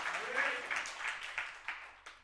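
A church congregation at a Sunday worship service claps together in a short burst of applause, a dense patter of hands with a few sharper individual claps, fairly faint and fading toward the end.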